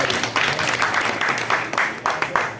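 Dense, steady audience clapping at a devotional jagran program in Kot Samaba, honouring a student who scored 544 out of 555. It is loud and continuous throughout, with slight swells and no clear pauses.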